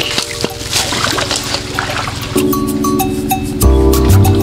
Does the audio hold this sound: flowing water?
yes